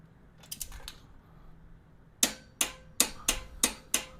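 A Tekton torque wrench set to 55 foot-pounds tightens the rear brake bolt on a Lifan KP 200 motorcycle. A few soft clicks come first, then six sharp, evenly spaced ratchet clicks ring out close by.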